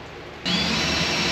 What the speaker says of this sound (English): Maybe I can go ahead and get all the holes drilled.